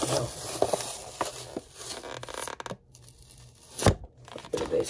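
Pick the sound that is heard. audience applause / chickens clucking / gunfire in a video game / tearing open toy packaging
tearing open toy packaging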